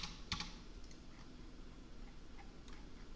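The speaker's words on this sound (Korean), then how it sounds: "이제 컨트롤 V만 하면 끝나요." Ctrl+V pressed on a computer keyboard in a quiet office: a quick pair of soft plastic key clicks near the start, then a few faint ticks against a low room hum.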